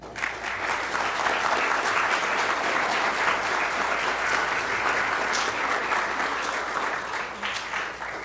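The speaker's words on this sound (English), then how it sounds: "Round of applause for all of them" At an 8th grade graduation ceremony, an audience claps in a loud, dense, steady round of applause for teachers, staff and coaches that holds for several seconds before easing slightly.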